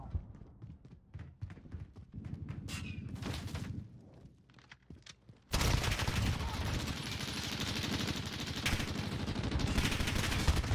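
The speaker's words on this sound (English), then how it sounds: "Bro is just spamming 100 rounds into this building." Automatic gunfire in Call of Duty: Modern Warfare, a hundred-round stream sprayed into a building. Scattered sharp shots at first give way to a loud, unbroken rapid burst that continues to the end.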